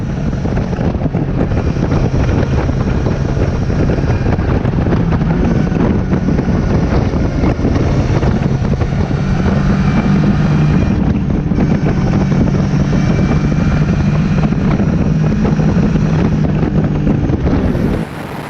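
A Yamaha Niken three-wheeled motorcycle rides along muddy back roads, its engine a steady near drone buried under heavy wind buffeting the microphone for the whole stretch, with no talk.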